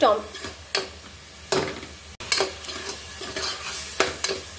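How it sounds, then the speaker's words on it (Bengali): Vegetables stirred and sautéed in a pan, with repeated close scraping strokes of a spatula over a constant oily sizzle, loud and rhythmic, no voices. "ভালো করে নেড়ে নেড়ে কষিয়ে নিব।"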